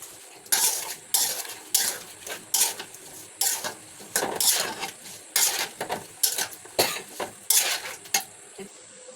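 A spoon stirs chili powder into a pickle in a metal pot, making rhythmic, close scraping and clattering strokes about every half second, with no talking.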